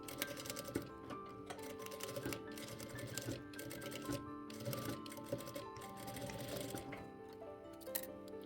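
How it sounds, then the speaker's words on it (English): A sewing machine stitches a fabric strip down over corset boning along both edges, a steady run of fast ticking needle strokes that goes on throughout with brief pauses and no talk. "Now sew the strip over the boning, stitching along both edges."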